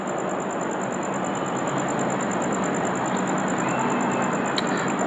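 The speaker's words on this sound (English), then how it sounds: "But now the train started moving." A freight train starting to move at a port of entry, a steady, broad rumbling drone with a faint high whine and a light clink near the end, continuous and fairly loud throughout.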